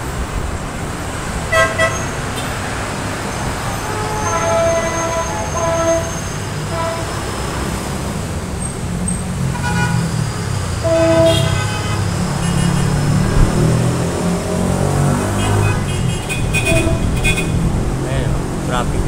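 Busy street traffic below a Davao mall, with steady road rumble and repeated horn toots sounding at intervals, some distant and some nearer, along with a possible train horn blending into the continuous din.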